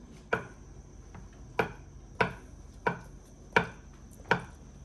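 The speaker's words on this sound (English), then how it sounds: "Jean, can you cut up the eggs?" A knife chopping eggs into small cubes on a board for lasagna, six sharp, evenly spaced cuts about 0.6 seconds apart, close and distinct with a faint steady hum behind.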